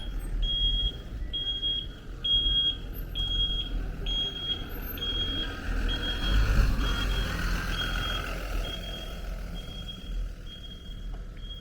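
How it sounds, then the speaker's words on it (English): A FedEx truck backs up along a Brooklyn street, sounding a steady series of about a dozen evenly spaced high backup beeps over a low engine rumble and outdoor traffic noise. "Let's follow the FedEx truck that is driving backwards."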